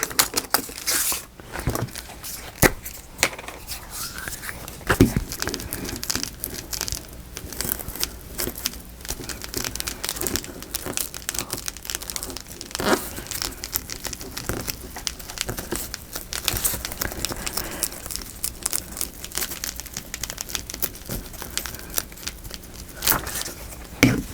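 Coffee-dyed paper handled and glued down in a journal, giving a steady run of crinkling, rustling and soft tearing-like sounds with occasional sharper crackles and pats, close up and without talk.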